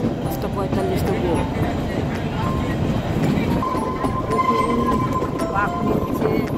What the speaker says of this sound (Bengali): বাঁক নিচ্ছে, আস্তে আস্তে হচ্ছে। এই যে আমাদের ট্রেন